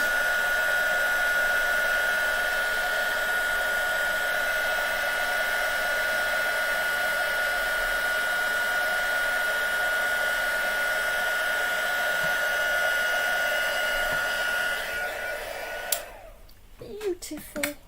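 A heat gun blows steadily for embossing on a craft table, a loud continuous whirring hum with a high whine, running for about fifteen seconds before switching off and leaving quiet handling noises.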